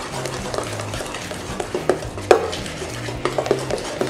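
Orange cake batter is stirred in a bowl, with steady scraping and swishing and a few sharper knocks of the utensil against the side, close up over a low background hum.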